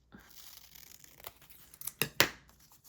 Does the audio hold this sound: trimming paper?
yes